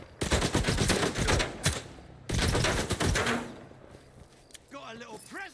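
Rival groups trade gunfire in S.T.A.L.K.E.R. 2: rapid automatic bursts crackle loudly in two long volleys with brief gaps, then fade as a voice speaks briefly at the end.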